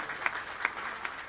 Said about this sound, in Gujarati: જોરદાર તાળીઓ થઈ જાય એકવાર શંકરભાઈ માટે.